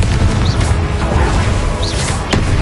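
A Confringo blasting-spell explosion in the wizarding game Hogwarts Legacy, a loud low boom and rumble amid the noise of a spell-casting fight, with a couple of brief whooshing zips on top.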